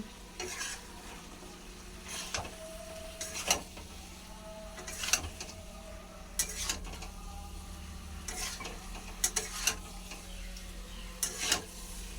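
Food sautéing in a pan under repeated spatula strokes, sharp scraping knocks every second or so over a soft constant sizzle and low background hum.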